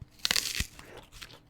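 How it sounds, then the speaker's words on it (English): Someone takes a crisp bite of a Green Dragon apple, a sharp close crunch followed by brief crackling. "That crunch was insane."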